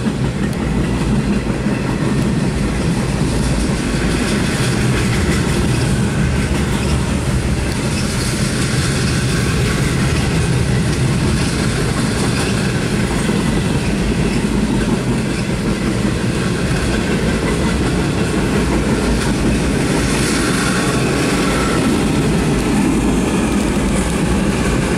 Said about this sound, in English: Another stop train.